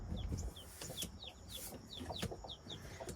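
Hens clucking inside a coop, one of them sitting on wooden eggs, giving a steady run of short, close clucks and thin chirps with no talking.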